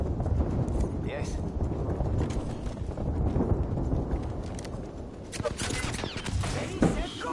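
Rapid gunfire in a ranked match of the video game Apex Legends, dense overlapping shots rattling steadily throughout at moderate volume, with a sharper burst near the end.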